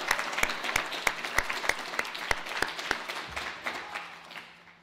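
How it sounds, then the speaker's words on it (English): An audience at a W3C WebVR authoring event bursts into applause, a dense run of many hands clapping that holds steady for several seconds, then thins and fades toward the end. "give him a big round of applause"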